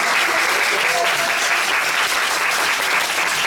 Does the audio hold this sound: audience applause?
yes